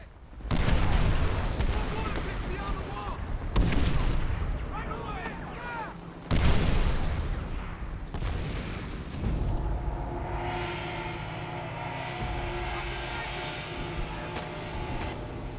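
Mortar explosions from the World War II shooter Call of Duty: World at War, heavy booms landing in quick succession with loud low rumbles, followed by sustained battlefield noise and ringing tones.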